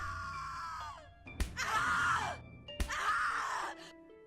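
Anguished screams in The Cat Lady, two long drawn-out cries cut by sharp thuds, loud and close, following a fading wail at the start.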